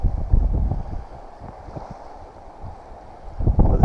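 Wind blows across a lake during kayak trout fishing at East Canyon, rumbling and buffeting the microphone in gusts, stronger at the start and end, with faint water lapping underneath and no talking.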